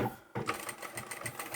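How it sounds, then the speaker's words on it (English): A sewing machine stitches a lined drawstring circle coin pouch, its needle whirring in a fast, steady rattle after a brief pause at the start, close and continuous. "and then I'm going to stitch on up to here. And I'll do a back stitch,"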